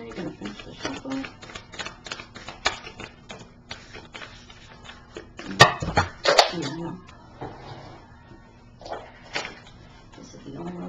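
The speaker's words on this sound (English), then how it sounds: "going to finish the shuffle" A deck of tarot cards being shuffled and handled, with repeated crisp riffling and flicking bursts of varying loudness. A louder clatter comes midway, and a person talks at times.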